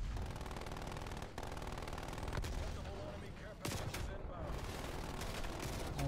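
Rapid automatic gunfire from the Call of Duty: Black Ops Cold War video game, played split-screen, rattles in loud sustained bursts broken by a few sharp cracks and brief pauses.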